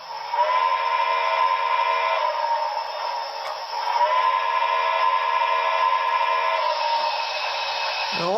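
Steam whistle of a Broadway Limited C&O L-1 Hudson model locomotive fitted with Paragon 3 sound, a long sustained tonal blast that holds, swells again, then trails off, loud and near with no voices.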